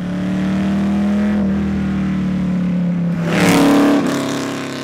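A deep 289 high-performance V8 in a Shelby-powered Sunbeam Tiger rally car rumbles steadily up close, then revs sharply louder for a moment before settling back down.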